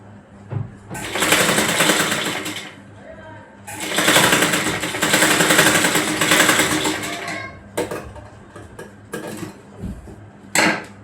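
A sewing machine stitches a frock for a five-year-old girl in several loud, sustained runs, with short pauses and brief clicks between them, while someone talks.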